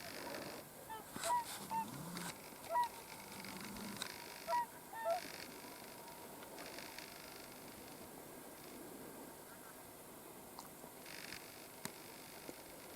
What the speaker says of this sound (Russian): вон видно, утки летят.